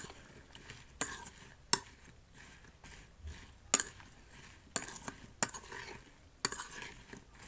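A spoon stirring green chili pickle mixture in a dish, with soft scraping and occasional sharp clinks of metal against the container, quiet and sparse with no voices.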